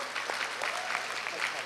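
Audience applause at a university alumni choir festival, steady clapping from a crowd filling the hall, with a voice speaking over it.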